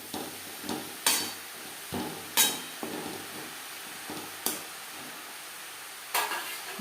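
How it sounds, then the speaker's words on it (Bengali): A spoon scrapes and clatters against a pan as salt is stirred into papaya, in about eight sharp, irregular strokes over a soft background sizzle, close and fairly loud. "পেঁপের সাথে লবণ বেশ ভালো করে মিক্স করে দেবো।"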